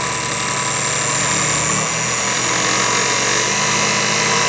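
A small electric test motor spins a mechanical distributor at high RPM, giving a steady, loud, continuous whine and hum that holds unbroken throughout.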